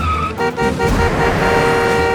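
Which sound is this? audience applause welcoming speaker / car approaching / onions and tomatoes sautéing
car approaching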